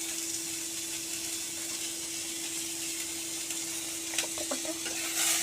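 Chopped ginger, chili and carrot fry in a wok for chowmein, giving a constant loud sizzle over a steady hum, with a few scraping stirs near the end.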